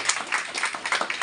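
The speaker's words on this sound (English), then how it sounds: "Okay, let's clap" An audience claps at a gathering between presentations, giving a short burst of brisk, scattered handclaps at close range.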